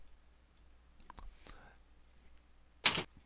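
Several faint, soft computer mouse clicks sound close by, followed by one sharper, louder click near the end, all in quiet surroundings.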